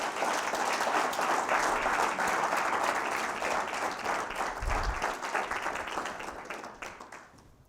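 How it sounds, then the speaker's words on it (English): Lecture audience applauds as a guest speaker comes up front, a full, steady round of clapping that gradually thins and fades out near the end. "Let's give him a round of applause."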